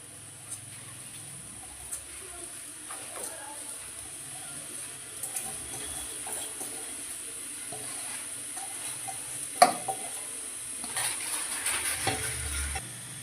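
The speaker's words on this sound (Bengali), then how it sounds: "আমরা এবার পুরো চালটা এতে দিয়ে দেবো।" Rice poured into a cooking pot for bagar bhat, with soft scraping and stirring over a low kitchen hiss and one sharper knock near the end.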